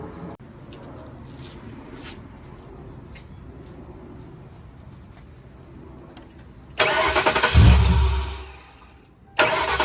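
A Mercury car engine cranks and catches with a loud roar after a quiet stretch, then cuts out from lack of fuel before starting again at the very end.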